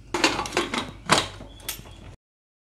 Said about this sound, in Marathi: आपण कुकरचं झाकण बंद करू